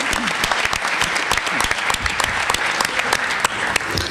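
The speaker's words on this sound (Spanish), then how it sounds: "Un aplauso." An audience at a Latin American history talk bursts into sustained applause, dense overlapping claps filling the room evenly throughout.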